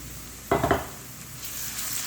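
Onions shallow frying with ginger garlic paste in a pan, a short burst of clattering stirring near the start followed by a steady soft sizzle.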